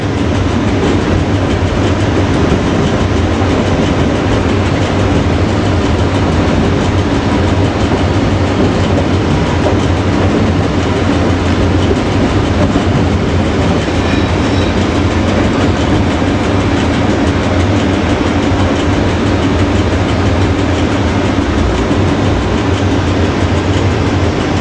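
An electric locomotive runs through Malbork in Poland, heard from the cab as a loud, constant rumble of wheels and motors with faint rhythmic rail clatter throughout.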